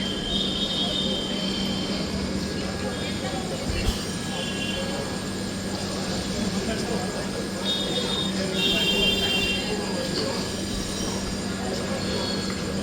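The Gour Express passenger train, running Sealdah to Malda Town, moves past a level crossing at Belgharia station. It makes a sustained heavy rumble, with wheel squeal and a high, steady tone above it, loud and close throughout.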